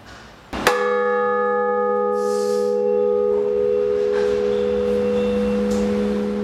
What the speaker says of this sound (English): our new peal of eight bells